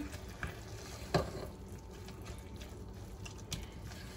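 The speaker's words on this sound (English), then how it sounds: "So at this point, I'll gently mix everything together." A pot of waakye mixture, a rice-and-beans dish, being gently mixed with a utensil, giving soft scraping and low bubbling sounds with a few louder knocks against the pot, steady and close.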